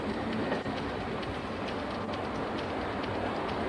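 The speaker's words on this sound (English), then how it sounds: "Wait a minute. This is our train." A train rolls past in a dense, continuous rumble with faint rhythmic clickety-clack, loud and steady throughout, with no voices.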